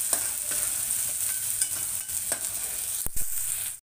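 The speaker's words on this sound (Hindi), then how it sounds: "ये प्याज को थोड़ा गुलाबी कर देंगे।" Chopped onions frying in hot oil, a continuous close hiss with a few light stirring scrapes and a couple of sharp knocks near the end.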